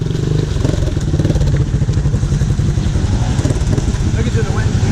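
An ATV engine at an off-road park revs and churns steadily up close while pulling out another stuck ATV, a loud, continuous throaty drone with rattling clatter.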